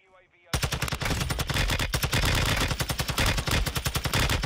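Rapid automatic rifle fire from a TAQ 56 in Warzone 2, aimed at a juggernaut, loud close bursts of sustained shots in fast rhythm that begin abruptly after a brief quiet moment and continue to the end.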